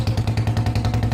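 Royal Enfield Bullet motorcycle engine revving close by, a loud steady low thump with rapid rhythmic pulses, no voices.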